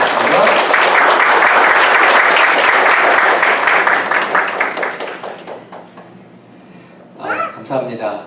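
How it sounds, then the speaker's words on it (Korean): A church congregation claps to welcome an elder coming forward at a special service, loud dense applause that gradually thins and fades, followed by a few spoken words at the end. "우리 장로님 나오실 때 저희가 박수로 환영하면 좋겠습니다."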